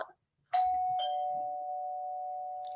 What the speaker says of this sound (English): Can't ring the doorbell looking like that.